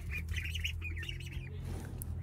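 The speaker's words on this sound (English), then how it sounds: "Let's go and look at the ducks." Ducks quack and squawk in a busy, overlapping chorus over a steady low rumble in the background.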